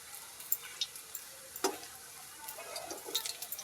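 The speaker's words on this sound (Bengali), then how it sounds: "আপনারা দেখতে পাচ্ছেন বড়াগুলো একদিক ভাজা হয়ে গেছে, আমি উল্টে দিয়েছি।" Green plantain fritters fry in oil with a quiet, crackling sizzle, scattered sharp pops and ticks breaking through a soft continuous hiss, heard close with no talking.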